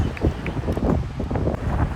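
Strong wind on the beach at Alappuzha during a casual cricket game buffets the microphone. It makes a steady, loud rushing roar with gusty surges throughout, and no clear voices stand out.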